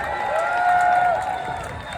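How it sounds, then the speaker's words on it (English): A rally crowd claps and cheers in a sustained burst, with a raised voice ringing over the noise, loud and fairly close. "Y'all better clap for that."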